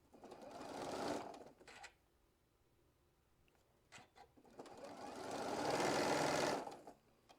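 A sewing machine stitches a quilt block in two steady running bursts separated by a quiet pause with a few faint clicks, close and alone.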